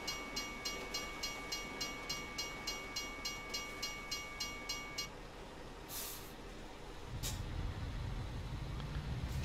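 A train rolls past a level crossing in Euro Truck Simulator 2, with a steady rhythmic clatter of wheels and a crossing tone, then a couple of sharp hissing bursts and a deeper rumble from the truck.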